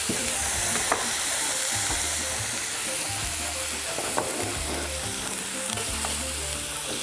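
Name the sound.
shallots frying in a pan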